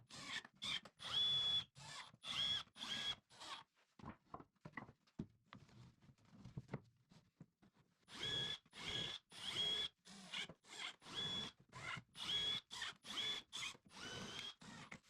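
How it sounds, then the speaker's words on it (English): Power drill driving screws into drawer slides during workshop cabinet building, in repeated short bursts of whirring with brief pauses, a quieter stretch of lighter taps and clicks in the middle, close and fairly loud. "I pulled out the drawer about 4 or 5 inches to drill and screw into the first hole"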